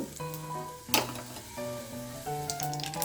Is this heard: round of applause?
no